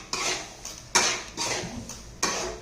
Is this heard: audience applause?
no